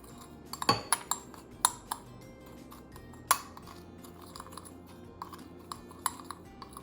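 Sugar and salt are stirred together as a dry rub for ribs, giving light clinks and scrapes of a utensil against a bowl, sharper at the start and softer, scattered taps afterward.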